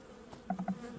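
Honey bees in a wintered hive box being inspected, giving a soft insect hum with a few brief louder buzzes near the middle of the second.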